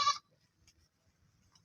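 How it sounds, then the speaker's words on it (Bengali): Goats in a leafy garden: one short, loud bleat opens the moment, followed by quiet rustling and faint background noise. "এই এই সাইডে দুইটা আছে ছাগল"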